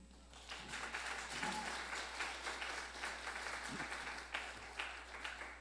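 A church congregation during a Sunday worship service applauding one another, faint scattered clapping with loose uneven bursts over a low steady hum.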